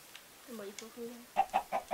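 Soft chicken clucks and low murmurs in the Minecraft Tekkit Lite modpack, then a run of quick, evenly spaced clucks, fairly quiet and close.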